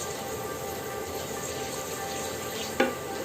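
Pangash fish with pui shak fries in a pan with a steady, close sizzle and hiss throughout, while a single utensil scrape from stirring stands out near the end.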